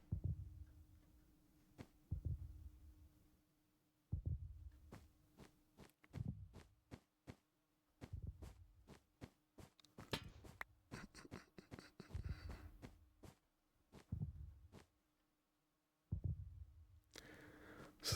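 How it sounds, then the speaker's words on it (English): Warden heartbeat from the Minecraft-style game Liminal Industries, hardcore mode: deep, muffled low thumps in a steady slow rhythm under a constant hum, interspersed with sharp clicking taps. "Okay, we got a Warden Heartbeat."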